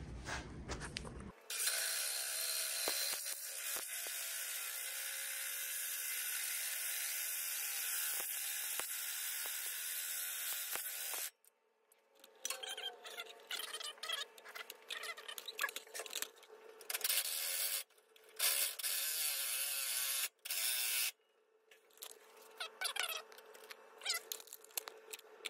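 A 2.5-inch hole saw grinds into aluminum tube, a sustained bright harsh whine at first, then breaking into choppy bursts of cutting with short pauses; close and fairly loud, with no talking.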